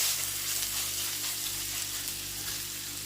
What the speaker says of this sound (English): Just fry for 2 minutes. Don't have to be brown, you guys. The onion don't have to be brown, just to soften.